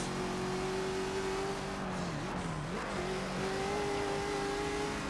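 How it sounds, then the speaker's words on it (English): An Audi's engine drones steadily in a mobile racing game on the Green Hell circuit, a continuous revving tone that dips briefly as the car shifts, then climbs again with a faint tire squeal. "hear the sound of that Audi here"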